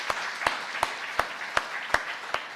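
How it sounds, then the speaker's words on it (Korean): A church congregation gives a slow, sparse round of applause during a Sunday service, with about seven distinct claps spaced evenly over a soft wash of clapping, moderately quiet and with no talking. "격려의 박수 드릴까요?"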